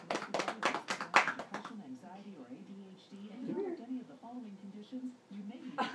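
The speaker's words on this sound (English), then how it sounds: "Clap. Somebody clap." Several people clap hands in quick bursts for a baby taking first steps at home, loud and close for the first second and a half, followed by adults talking and cooing.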